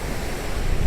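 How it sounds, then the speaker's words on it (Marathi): Sea waves wash onto the shore at Holi village on the Rajapur coast at sunset, casuarina trees behind, a steady broadband surf rumble with no voices, swelling slightly toward the end. "समोर समुद्र"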